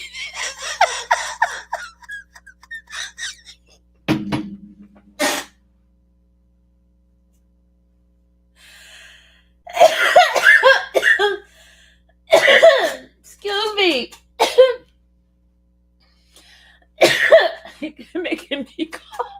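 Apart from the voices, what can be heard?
coughing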